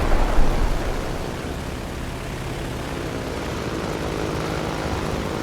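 Engine of an I-153 Chaika biplane in the game War Thunder, a dense, continuous broadband propeller drone that holds steady and loud throughout, with a slightly louder surge at the very start.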